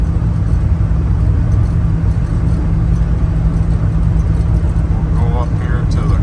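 A 1986 Dodge Ram D150 pickup cruises down the road at highway speed, a loud steady engine drone and road rumble heard from inside the cab, with no break throughout.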